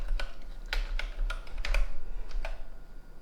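Keys clack on a ZX Spectrum rubber keyboard, a quiet series of about eight uneven taps close by.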